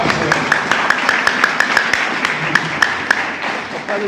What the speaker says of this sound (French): Applaudissez le ciel sur vous